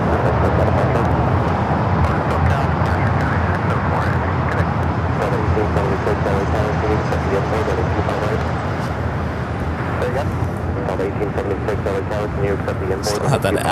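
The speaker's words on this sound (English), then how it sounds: "This is Coletta Air 604 taking off to Seoul on the 747-400 freighter." A Boeing 747-400 freighter taking off at LAX, a broad continuous engine roar rumbling throughout with steady low-end power, while a voice talks over it.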